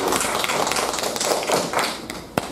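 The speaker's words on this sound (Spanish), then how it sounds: "vamos a recibirlo con un fuerte aplauso" An audience at an occupational health and risk prevention course applauds to welcome a doctor to the stage, giving a dense, loud burst of clapping that fades toward the end, with a sharp thud near the close.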